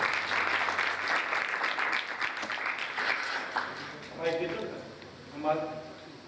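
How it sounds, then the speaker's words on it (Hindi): A studio audience claps briefly at fair loudness, the applause fading as a voice starts speaking over and after it. "एक बार अपनी तालियां बजाकर मेरे तमाम मेहमानों को खुश आमदीद"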